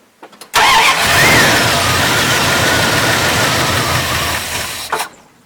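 An old lunch truck engine cranks briefly, then catches and runs loudly on choke at a fast, rough idle for several seconds before shutting off, heard up close with no talk.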